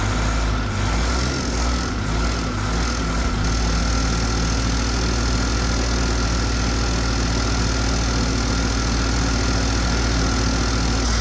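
A Mustang skid loader's worn engine idles loudly and steadily, a deep, even rumble with a slight knocking throb that runs unbroken throughout.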